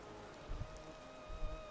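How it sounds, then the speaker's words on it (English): Soft, steady rain falls on an island in Animal Crossing: New Horizons, a quiet, even patter with a couple of faint low thumps and a thin held tone in the background. "Listen to the soothing rain."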